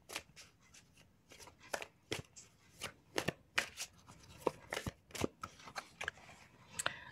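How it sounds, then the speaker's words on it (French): Oracle cards shuffled and drawn by hand: a close run of crisp riffling snaps and slides, with steady irregular bursts and no voices. "je vais tirer une deuxième carte pour avoir un peu plus de précision"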